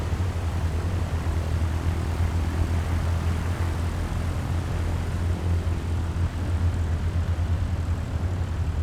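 Cessna 172 engine idling as the aircraft taxis in Microsoft Flight Simulator 2020, a steady low propeller drone with a constant hum that holds unchanged and loud throughout with no talk.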